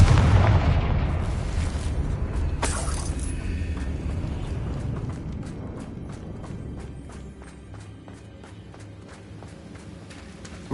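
A Confringo fire spell blasts in a video game, a loud booming explosion right at the start that rolls into a long, rumbling decay with scattered crackling debris and no talk.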